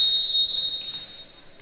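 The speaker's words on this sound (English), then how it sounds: "And with that blow of the whistle, we are officially underway." At a varsity girls' high school volleyball match, a referee blows one sharp, steady whistle to start play. The blast is loud and close, then fades into faint gym ambience.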